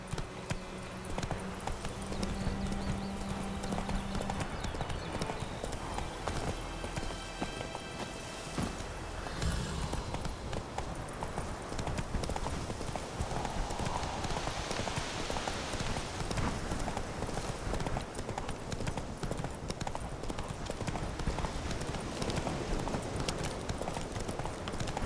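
Horse hooves gallop in The Witcher 3, a rapid continuous drumming of clip-clop beats over ambient game sound and soft rushing noise for the whole stretch.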